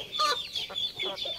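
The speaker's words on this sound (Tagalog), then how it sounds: "Yan mga Brahma chicken natin." Brahma chickens, a large breed, cluck in short, repeated, close-up calls at a backyard poultry raising spot, with no talk over them.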